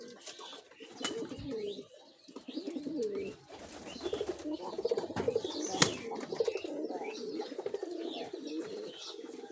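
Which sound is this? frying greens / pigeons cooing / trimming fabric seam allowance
pigeons cooing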